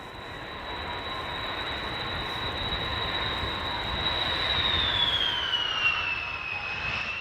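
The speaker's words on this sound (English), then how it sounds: "The Belavia flight from Minsk delivers Lily on time." A Belavia passenger jet from Minsk on its landing approach to the runway, a steady roaring jet engine with a high whine that slides down in pitch as it passes, fairly loud and heard without talk.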